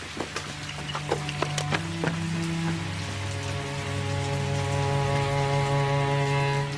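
Steady rain patters close by with scattered sharp drip taps at first, settling into a continuous even hiss that builds slightly toward the end, with a low hum beneath.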